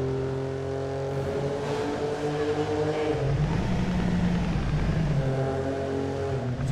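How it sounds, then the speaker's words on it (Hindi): A new Lamborghini Huracan sports car engine hums loudly and steadily while driving in heavy traffic, its deep drone swelling in pitch midway before settling back. "यहाँ में साउंड सुनना इस गाड़ी का"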